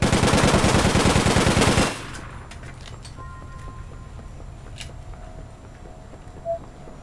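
Rapid automatic gunfire from the online shooter game APB, a loud sustained burst lasting about two seconds that cuts off abruptly, leaving quiet ambient game sound with faint tones afterward.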